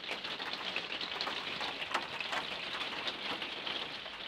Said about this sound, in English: I've been here about 6 hours now, just waiting out the rain.